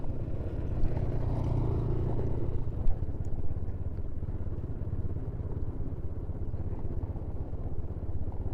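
A motorcycle drones along a village shortcut road in Padang Pariaman, its engine a continuous low rumble that stays close and fairly even throughout, with no talking.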